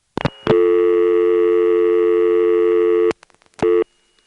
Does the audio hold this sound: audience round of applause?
no